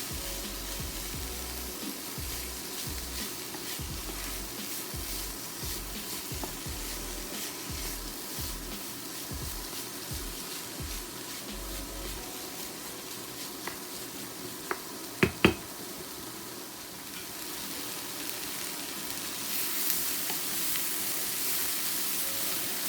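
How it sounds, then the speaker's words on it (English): Succotash of corn seasoned with salt and crushed black pepper, stirred in a hot pan, giving soft continuous sizzling with scattered clicks of the spoon, a few sharper taps midway, close and fairly quiet with no voices. "Stir it again"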